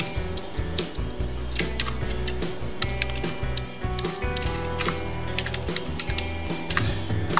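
Quick, steady clicking of keys on a computer keyboard, close by, with bursts of typing running the whole time over faint background music.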